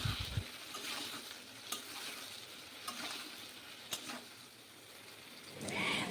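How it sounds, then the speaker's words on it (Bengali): Eggplant pieces frying in oil in a pan give a continuous, moderate sizzle close by, punctuated every second or so by sharp clicks of a utensil stirring against the pan, with no voices. "এবার আলাদা করে বেগুনগুলোকেও লাল করে ভেজে"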